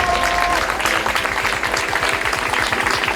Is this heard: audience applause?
yes